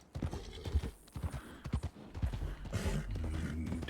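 A horse in a roleplay video game clops its hooves loudly and steadily, a dense run of hoofbeats that grows into a continuous rumble of movement.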